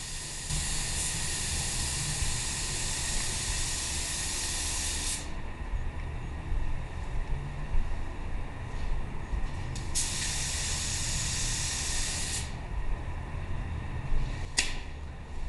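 A spray gun lays clear coat onto a car's paint in long, loud hissing passes, with two brief pauses between bursts and a short sharp burst near the end.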